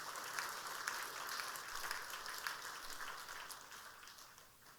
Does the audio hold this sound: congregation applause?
yes